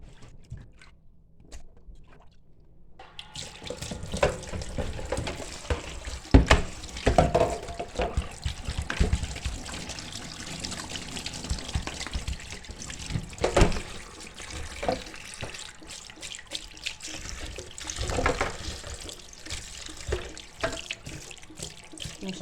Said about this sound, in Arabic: نصفيه كده من الميه اللي هو فيها ونغسله